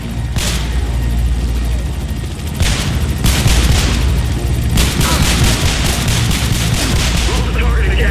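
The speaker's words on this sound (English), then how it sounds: "You were supposed to lose the damn helicopter." A helicopter in the video game Manhunt 2 roars loudly with a steady low rotor rumble, mixed with bursts of gunfire and booms, while voices speak over the din.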